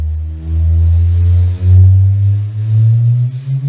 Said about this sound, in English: That is the sound of two neutron stars colliding